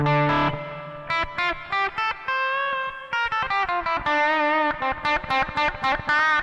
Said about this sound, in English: arena reverb